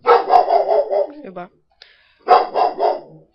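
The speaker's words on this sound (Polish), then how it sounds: "Ja uspokoję psa." A dog barks in a rapid burst of several loud, close barks, pauses, then barks again in another quick run; a voice speaks briefly between the bursts.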